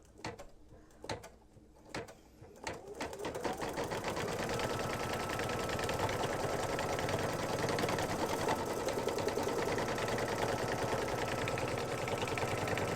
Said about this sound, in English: And again, stitch it for a couple seconds and I'll finish this off camera.